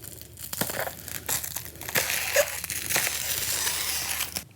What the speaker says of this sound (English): Using my razor knife, I'm going to cut the shrink wrap off the main frame.